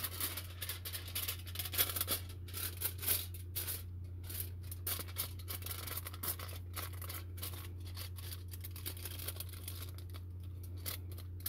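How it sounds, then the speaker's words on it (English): Scissors cutting a sheet of aluminum foil into squares and strips for a homemade spectrometer: quiet, irregular snips and crinkles close by over a constant low hum, no speech. "Cut your sheet of aluminum foil into two squares and two strips."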